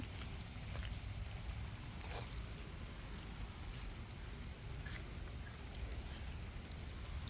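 Steady, faint rainfall patters on surfaces with a constant low rumble underneath, with no voices.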